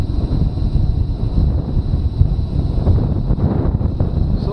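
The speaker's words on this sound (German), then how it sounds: "Mit dem Wind zu kämpfen, mir macht's nichts." Wind blows across a hilly outdoor landscape near the Donnersberg, a steady rumbling buffet against the microphone with gusty low noise and no talk.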